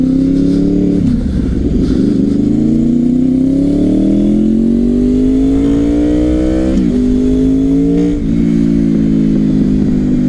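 A Honda VTEC engine pulls hard during a ride, its loud tone climbing steadily through the gears with brief dips at each shift, close and continuous, with no talking.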